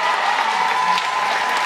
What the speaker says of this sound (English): we'll have a big cheer there